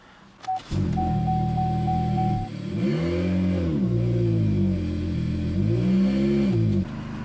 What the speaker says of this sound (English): we're gonna go ahead and start the car, and then we're gonna keep the RPMs at 2000 just to force all the air out